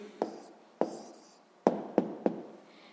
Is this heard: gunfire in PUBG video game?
no